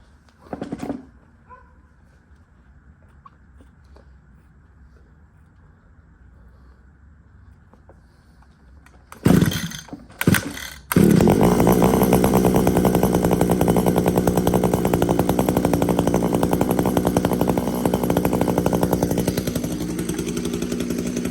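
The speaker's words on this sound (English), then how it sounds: "This is my most reliable trimmer I own." A gas string trimmer gets a few pull-cord tugs, then sputters to life and runs with a loud, steady, buzzing two-stroke drone up close.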